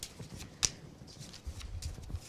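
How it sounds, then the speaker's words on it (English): Playing cards from the Valiant Wars card game being shuffled at a tabletop game preview, a soft papery riffle with a few sharp snaps, close and moderately quiet, with no talking over it. "Shuffle these up."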